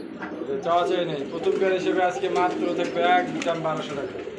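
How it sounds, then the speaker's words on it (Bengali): Racing pigeons coo in low, rolling calls, close by and fairly loud, continuing throughout with a voice or two mixed in. "আর এটা হচ্ছে বাবেরটা হচ্ছে মাদি কবুতর সম্ভবত রানিরটা"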